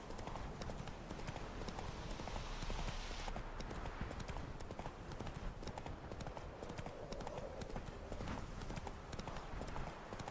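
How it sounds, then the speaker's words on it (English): Roach the horse from the video game Witcher 3 gallops through foliage, its hooves clip-clopping in a rapid, continuous rhythm at close range. Rustling ground noise runs underneath, and no one speaks. "You would never run a full gallop on a horse through this kind of like foliage"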